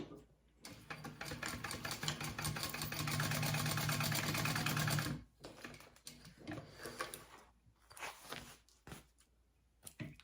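A sewing machine bastes a snap tab onto a wallet, running steadily for about five seconds as a close, even mechanical whir before stopping, followed by quieter handling noises.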